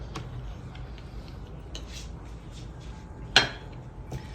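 A can of carbon-coloured paint is stirred, giving soft scraping and a few light metallic clinks, with one sharp knock near the end; faint and close, with no talk.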